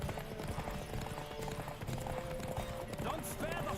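Horse hooves clip-clop at a rapid gallop in The Witcher 3, a steady rhythmic pounding under game music and a player's excited talking, with a brief whinny near the end.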